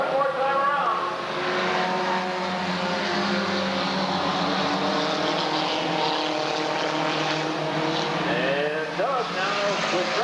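Mini stock race cars lapping a short oval at Redwood Acres Raceway near the finish, one Toyota among them, with engines droning and revving loudly as cars pass and fade, under an announcer's steady commentary.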